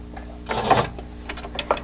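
A sewing machine stitches fabric for a face mask with a pocket, a short close burst of rapid mechanical chattering followed by a few quieter clicks and ticks.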